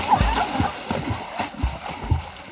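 Children splash in water while learning to swim, with irregular soft slaps and sloshes close by as a voice speaks over the activity.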